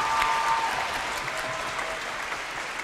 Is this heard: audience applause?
yes